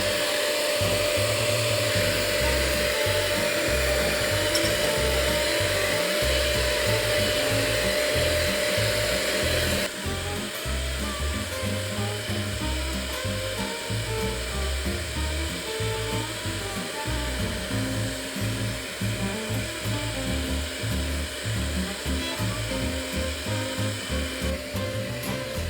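An electric mixer beats carrot muffin batter of eggs, flour and oil in a loud, continuous motor whir with a rhythmic churning, shifting slightly in tone partway through, with no voices over it.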